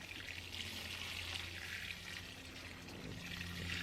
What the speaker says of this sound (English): we're going to water it in really well